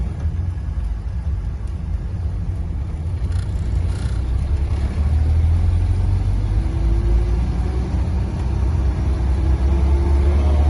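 A 1938 Mopar car's engine rumbles loudly and steadily as it pulls away, with the low drone rising slightly in pitch as it gets under way, heard close from inside.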